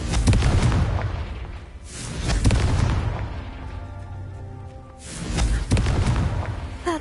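The Confringo fire spell in Hogwarts Legacy sets off three loud, booming explosions, each swelling and then fading into a roar with crackling debris between the blasts.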